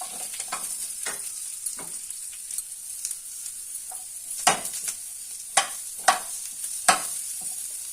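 Onion and garlic frying in a little oil for urad dal sambar, a faint steady sizzle broken by repeated scraping stirs and a few sharper spatula knocks on the pan.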